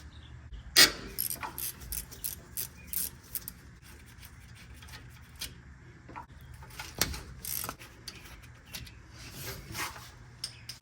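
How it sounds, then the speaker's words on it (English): A wrench working the 13mm caliper bolts on the rear brake of a Ford F-150 with the wheel off, making scattered metallic clicks, clanks and scrapes close by, with quiet stretches between. "remove the two 13mm bolts holding the caliper onto the bracket"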